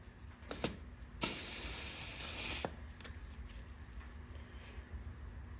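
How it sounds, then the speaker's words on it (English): An air pressure gauge presses onto the Schrader valve of a 2009 Police Special motorcycle tire, giving a couple of brief clicks and then a sharp hiss of escaping air lasting over a second, close and alone. "So now I put my air gauge tester back on. Again, just pushes down on the Schrader valve."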